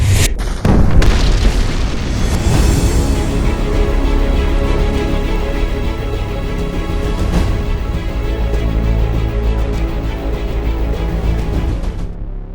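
An explosive detonation set off by an Air Force EOD team, one loud, sharp boom followed by a long, rumbling roar and debris noise that slowly fades over several seconds.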